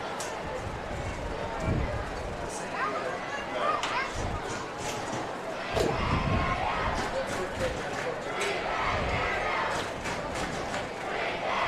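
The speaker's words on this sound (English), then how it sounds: "Get to hear the Hawk block getting into it." A high school football stadium crowd with the student section in full voice, cheering and yelling in a loud continuous roar with scattered thumps, while announcers talk over it.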